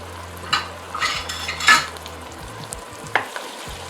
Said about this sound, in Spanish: Hay que estar constantemente moviendo el aderezo para que no se nos pegue y se nos queme